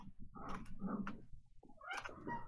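A cat gives a few short, soft vocal calls, quiet and close, with brief pauses between the sounds.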